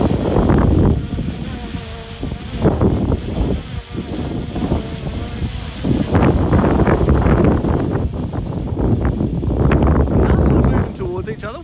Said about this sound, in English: It's probably still 30 km/h winds.